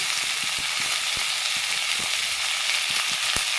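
Green chillies and curry leaves fry in a hot pan with oil, a steady close sizzle and crackle running throughout with occasional sharp pops, no voices.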